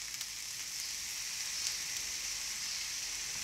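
Fried tomato sauce sizzles in a pan with mackerel, a steady, dense hiss that holds at an even level throughout with no voices.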